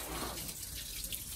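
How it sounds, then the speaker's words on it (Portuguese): Water drains from the radiator of a Chevrolet Omega with an overheating fault, a faint, continuous splashing trickle. "Ali vai sair toda a água do radiador."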